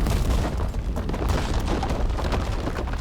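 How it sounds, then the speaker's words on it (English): A tunnel being blown up in the video game Dying Light The Beast, a heavy, rumbling explosion boom that rolls on with low debris noise for a few seconds, loud and close. "I also blew up the tunnel for good measure."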